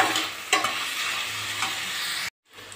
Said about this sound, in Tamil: இப்போ பார்த்தீங்கன்னா வெங்காயம் ரொம்பவே அருமையாக வணங்கி வந்துட்டுருக்குது